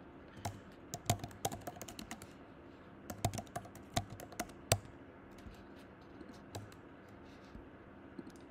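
Quick irregular keystrokes on a computer keyboard as someone fills in an online application form, the clicks coming in close bursts with short pauses, near and moderately loud with no talk.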